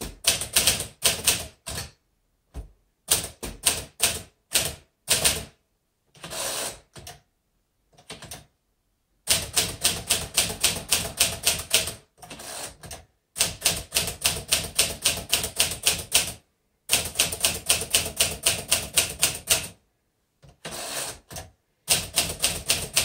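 Fast bursts of key strikes from a 1949 Smith Corona Silent manual typewriter, close and crisp, broken by short pauses and brief silences between typed runs.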